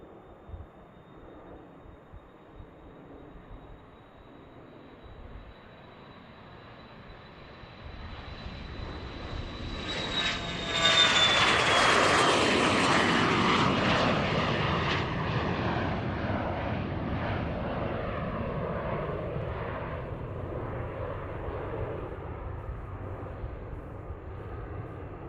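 A jet airliner takes off from runway 32 left at Boeing Field, starting as a distant whine with a high tone, then swelling into a loud, broad engine roar that peaks near the midpoint and stays strong as it departs.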